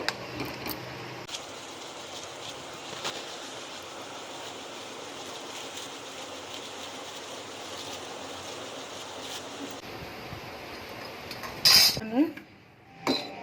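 Mango pulihora being stirred in a pan, a soft, steady scraping and rustle of the spoon against the metal. A louder clatter comes near the end.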